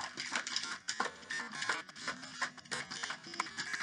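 Lemonade and sugar shaken hard in a sealed container, a busy run of rattling, sloshing bursts in quick irregular rhythm, close by and with no talking.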